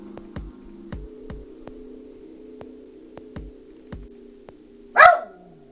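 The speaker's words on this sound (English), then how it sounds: "Smudge, stop barking!" A dog barks in a steady series of short, sharp woofs, about ten of them at roughly regular intervals over a low constant hum, and a brighter, louder yelp or squeal closes the run near the end.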